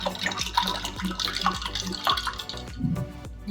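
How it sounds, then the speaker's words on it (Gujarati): Cold water pours into glasses of lemon sharbat with ice cubes, a close burbling splash in short bursts with light clinks, no talking. "પછી આપણે એમાં ઠંડુ પાણી એડ કરવાનું છે"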